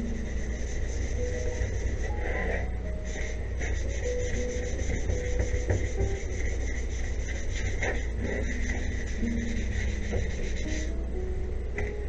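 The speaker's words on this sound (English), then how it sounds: "I want to sand down the edges and everything else before." Sandpaper rubbed by hand along the edges of a TRS-80 Model 3 computer case, a steady, continuous close-up scraping that persists for the whole stretch with small variations in pressure and stroke.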